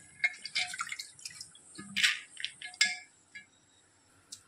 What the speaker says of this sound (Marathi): 1 ग्लास पाणी आणि आणखीन थोडंसं पाणी त्यामध्ये टाकणार आहे शिजवायला